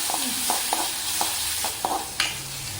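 Curry leaves and mustard seeds sizzling in hot oil in a pan, stirred with a spoon that scrapes and taps the pan several times over a steady frying hiss, close and fairly loud.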